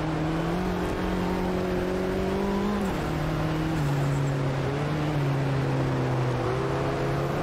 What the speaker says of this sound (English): Oh, the turbo noise as well